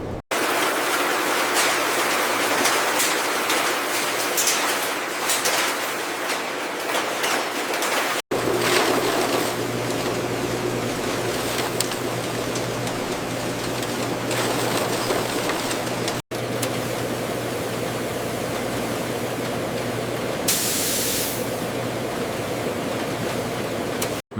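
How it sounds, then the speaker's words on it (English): An IQF freezing tunnel in a McCain french fry factory gives a steady, loud, broadband rush of fans and airflow. The even roar runs with no talk, broken only by two abrupt cuts. "Inside the IQF tunnel, fries travel through multiple freezing zones at progressively lower temperatures."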